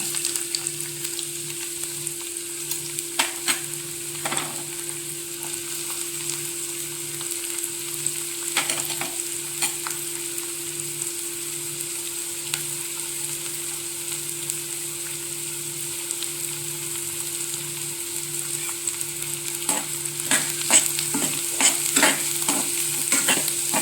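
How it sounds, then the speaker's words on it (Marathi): Onion fries in hot oil in a kadhai for egg bhurji, making a continuous close sizzle with a steady hum beneath and scattered scraping stir strokes, busier toward the end, with no voices. "कढईमध्ये तीन चमचे आपण तेल घातलेलं आहे तेल गरम झाल्यानंतर आपण प्रथम घालणार आहोत कांदा"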